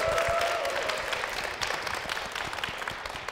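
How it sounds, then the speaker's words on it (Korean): Applause from a church audience welcoming a young man to the front during a testimony program, steady clapping from a sizable crowd lasting several seconds with no talk over it. "여러분 큰 박수 부탁드릴게요"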